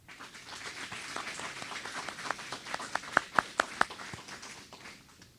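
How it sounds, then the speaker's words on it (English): An audience at a school agriculture enrichment center ribbon-cutting ceremony claps to welcome special guests, a light patter that builds into a few louder, sharper claps near the middle before thinning out again. "Please join me in welcoming all of our special guests with a round of applause."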